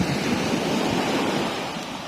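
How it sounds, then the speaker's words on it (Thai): Big sea waves crashing on a beach shore in strong wind, a loud continuous roar and wash of surf with wind noise, easing slightly toward the end, no voices. "คลื่นมันใหญ่จังเลยอ่ะ มันน่ากลัวมากเลย มันซัดมาดูเด็ดดูเด็ด"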